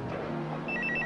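A telephone in a public phone booth rings with a short, repeated electronic tone, faint against a low background hum.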